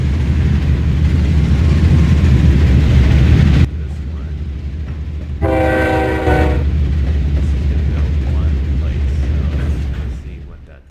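Trains rumbling along with a brief blaring horn in Trainz Railroad Simulator 2019, heavy continuous low roar with rail clatter and a loud multi-tone horn blast in the middle.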